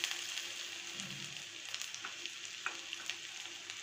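Grated ginger fries quietly in oil with fenugreek and asafoetida for a masala kadhi, a faint soft sizzle with small scattered crackles and pops close by.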